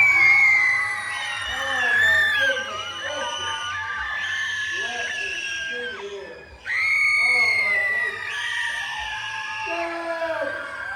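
A crowd of children in the audience of a magic show at Six Flags Frontier City screaming loudly and continuously, shrill and sustained, with one brief dip before the screaming surges again.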